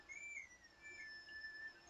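A short whistled tune for the horse Epona in Zelda: Twilight Princess, a few thin rising and falling notes played faintly over quiet game ambience.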